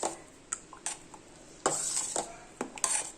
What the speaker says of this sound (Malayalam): എന്നിട്ട് നല്ലപോലെ ഒന്ന് ഇളക്കി കൊടുക്കുക.